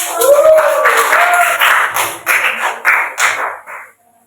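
A classroom of seventh-grade students claps, starting as scattered clapping mixed with a voice and chatter, then breaking into several short rhythmic bursts before stopping abruptly.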